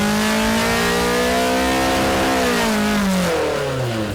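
A simulated Australian V8 supercar running a Volvo 5-litre engine on E85 revs hard in BeamNG, a loud close engine note that climbs through the revs, then falls away as the throttle lifts.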